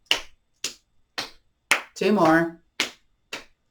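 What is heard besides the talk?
hands slapping the inner elbows during a yoga exercise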